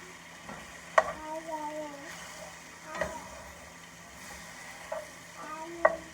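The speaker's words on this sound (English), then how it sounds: "You give it a little stirring. It's just gonna thicken up all them juices." Carnitas with bell peppers and onion fry and bubble in a pan under a constant low sizzle, while a spoon knocks against the pan in four scattered clicks during slow stirring, close and without talk.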